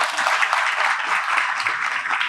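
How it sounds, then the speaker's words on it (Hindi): Audience applause in a devotional katha gathering, steady dense clapping from a crowd that fills the whole moment with no voices over it. "ताली बजाइए इनके लिए।"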